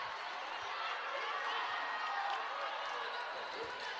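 Zimbabwe supporters roar and cheer steadily at a netball match against Namibia, a dense, continuous wall of crowd noise filling the arena throughout.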